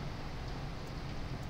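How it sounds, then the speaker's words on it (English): Rain falls outside in a soft, steady, even hiss that continues without a break and carries no voices. "If you're hearing rain sounds at the back, I do apologize."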